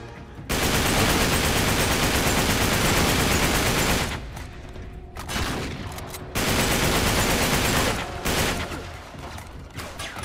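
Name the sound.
gunfire from Uncharted 3 video game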